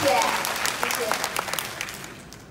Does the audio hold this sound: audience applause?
yes